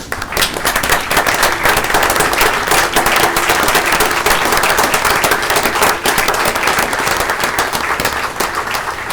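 Loud, sustained applause from a council chamber audience standing to honor police officers, firefighters and city marshals in Shreveport, dense clapping filling the room steadily with no talk over it.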